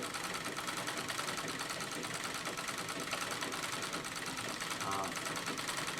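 A sewing machine stitches a quilted fern pattern on white denim, its steady rapid whirr running unbroken and close throughout.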